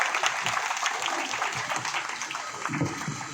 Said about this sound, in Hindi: मैं चाहूंगा अभी सर जोरदार तालियों से हम उनका स्वागत करेंगे।